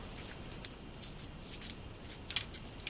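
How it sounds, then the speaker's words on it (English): Crisp crackling and crinkling of a half-inch strip of stiff cardstock being crushed, in short irregular bursts at close range. "I like to use a 1/2 inch strip of cardstock and just crumple it"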